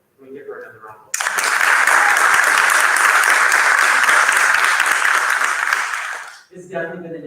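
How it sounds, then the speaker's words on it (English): A school audience at a fifth-grade promotion breaks into loud, sustained applause that runs about five seconds and fades. A speaker's voice is heard briefly before and after it. "So can we give her another round of applause?"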